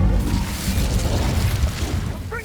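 The fiery burst of an Incendio spell cast in Hogwarts Legacy is loud and close, a whooshing, crackling blast of flame that thins out toward the end, with no talking.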